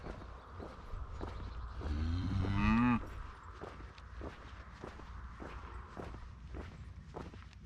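A cow lets out one loud, drawn-out moo close by, while rhythmic hoof steps or footfalls thud steadily throughout.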